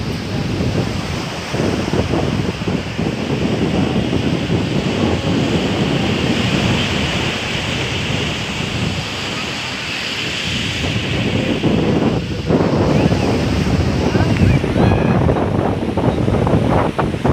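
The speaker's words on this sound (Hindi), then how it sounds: "देखिए कहाँ आ गया समुद्र का लहरा है" Sea waves surge and wash steadily at Marine Drive in Mumbai, mixed with strong wind buffeting the microphone, loud and continuous throughout with no pause.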